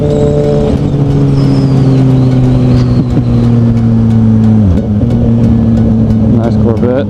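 A Chevrolet Corvette goes by on the road, heard from a motorcycle with a steady engine drone and wind rush, the car's engine note sweeping past around midway.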